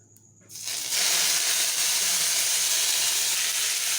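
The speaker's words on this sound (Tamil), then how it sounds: "இப்போ எண்ணெய் ஊற்றி மிளகாத்தான் போட்டுக்கலாம்." Milagathan dropped into hot oil in a home kitchen, bursting into a loud, steady sizzle after a brief quiet start, then frying on continuously with a bright hissing crackle close to the pan.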